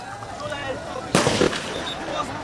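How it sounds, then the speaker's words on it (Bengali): Army gunfire aimed at protesters during violent unrest in Gopalganj, Bangladesh: one loud, sharp burst cracks out midway through a steady backdrop of crowd noise and talk. "সেনাবাহিনী গুলি বর্ষণ করছে বিক্ষোভকারীদের দেখে"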